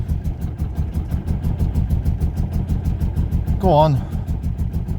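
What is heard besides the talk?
Mercedes 190E barn find engine running rough at full throttle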